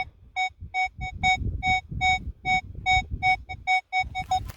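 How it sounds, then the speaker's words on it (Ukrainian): A Legend WHP metal detector beeps in a fast series of about a dozen short, evenly pitched tones during a dig for relics among scattered pottery, with soft rustling and thuds underneath and no talk. "Так, є в мене наступний кольоровий сигнал."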